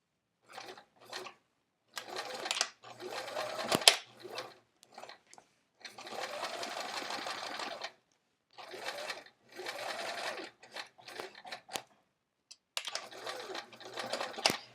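Sewing machine stitching fabric pockets for a travel art folio, running in repeated bursts of rapid stitching separated by short pauses, close and clear.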